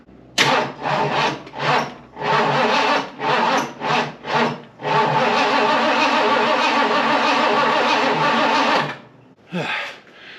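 The weak Ford starter on a junkyard car labors as it cranks the engine in several short bursts, then in one long sustained grind that cuts off, followed by a final brief crank, loud and close.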